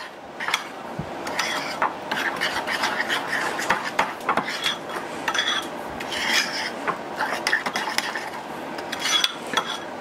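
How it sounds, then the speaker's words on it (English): White sugar mixed into cheesecake batter makes a close, gritty rasping scrape, like a utensil grinding against a bowl, repeated in irregular strokes with occasional soft knocks. "1/4 cup of white sugar. Kind of mix that together a little bit."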